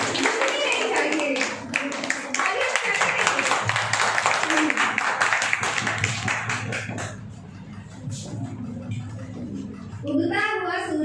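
An audience at a students' Teachers' Day programme claps and applauds, a dense spell of hand claps that thins out midway, with voices talking and calling over it.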